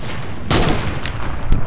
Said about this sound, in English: Shoot the wall, shoot the wall